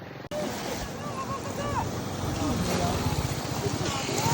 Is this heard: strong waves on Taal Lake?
yes